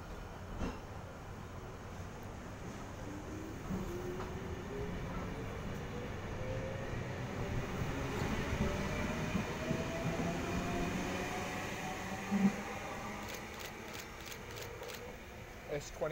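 A Sydney City Circle passenger train rumbles steadily as it pulls away from platform 1, its pitch rising gradually, with rhythmic clacks near the end and faint voices in the background.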